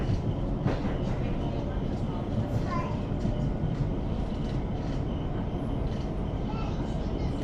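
A London Overground Windrush line train running from Whitechapel toward Crystal Palace gives a loud, continuous interior rumble with rattling carriage noise, and faint voices are heard beneath it.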